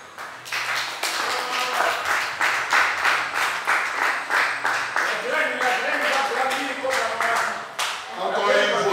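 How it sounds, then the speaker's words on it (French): An audience at a general assembly in the Democratic Republic of the Congo breaks into loud, sustained applause with rhythmic clapping for several seconds, and voices come through near the end. "Et je voulais demander à l'assistance d'applaudir fortement."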